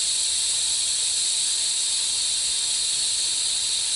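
A steady, loud, unbroken hiss of air escapes from the air ride suspension of a 2003 Duramax C4500 rollback truck, continuous and close throughout with no talking.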